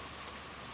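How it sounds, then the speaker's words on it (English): Rain falls steadily at a campground, a soft, even patter on surfaces, faint and unbroken for a brief moment with no talking. "looks like rain's going to be hanging around"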